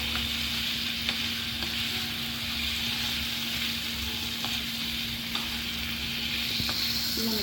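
Bread paneer roll filling stirred in a pan on the stove, producing an even, continuous sizzle with occasional soft spoon taps against the pan and a faint steady hum, without speech.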